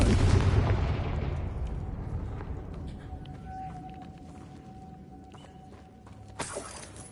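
A Confringo spell blast goes off in Hogwarts Legacy, a loud booming explosion that decays slowly into a rumbling tail, followed by a faint tonal shimmer and a sharp crackle near the end.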